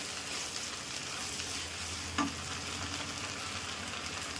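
Chopped tomato sizzles steadily in hot oil with ginger garlic paste while being stirred, a continuous close frying hiss with one brief clink of the spoon partway through.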